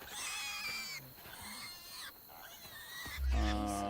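Pigs squeal in the video game South of Midnight, a chorus of high, harsh cries overlapping steadily and then rising into a louder, nearer squeal at the end, with game music and sound effects underneath.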